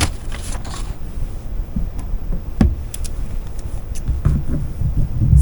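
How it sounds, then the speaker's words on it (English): Scissors trim fabric for a beginner crossbody strip zipper bag, giving a few soft, sparse snips and clicks over a low, steady room background with no talking. "Actually, I'm going to use a pair of scissors"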